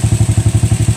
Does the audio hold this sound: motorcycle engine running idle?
yes